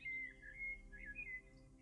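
Springtime birdsong: a few clear whistled chirps and short warbling phrases, faint and slightly distant, over a soft low background hum.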